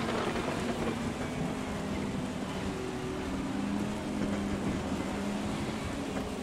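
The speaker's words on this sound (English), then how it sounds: "the rain effects are so good" Steady, dense rain and patter from the Assetto Corsa Competizione racing game, a continuous wash of noise with low rumbling beneath it, no voices heard.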